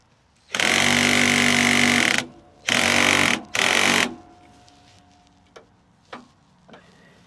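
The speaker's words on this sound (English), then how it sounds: "Let's see if my regular drill can do it." A cordless drill runs in three bursts, one long and two shorter, loud and close, while working on the drive belt repair of a lawn tractor, followed by a few faint clicks and knocks.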